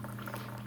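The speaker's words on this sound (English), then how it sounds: "this coffee should be done brewing shortly" A Ninja Coffee Bar with a glass carafe brews coffee with a steady, soft bubbling and gurgling hiss, heard close and alone at a low level over a constant low appliance hum.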